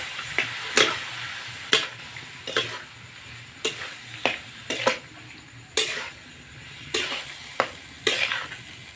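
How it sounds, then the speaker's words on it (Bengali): Chicken frying in a pan with fried turmeric, chili and cumin paste, a low steady sizzle broken by repeated sharp scraping clacks of a spatula stirring, close up. "মশলা ভাজা হয়ে গেছে, এখন আমরা চিকেনটা দিয়ে দিচ্ছি।"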